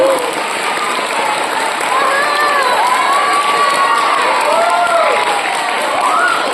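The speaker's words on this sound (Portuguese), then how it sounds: "Muitas palmas, né?" A crowd at a Brazilian event for National Intellectual and Multiple Disability Week applauds and cheers for Sandro, with loud continuous clapping mixed with shouts and excited voices throughout.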